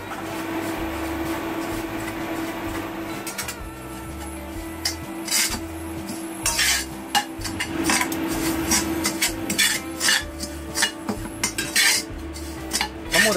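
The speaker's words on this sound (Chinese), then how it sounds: "好少量嘅油啦，然之后我哋炒定啲面包糠备用" Breadcrumbs are stir-fried in a little oil for crispy garlic chicken wings, a metal spatula scraping and clattering repeatedly against the pan, close and fairly loud, with brief quieter gaps and no talking.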